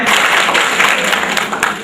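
An audience applauds loudly and steadily to welcome a speaker to the stage at a political gathering, dense close clapping throughout, with a voice talking over it.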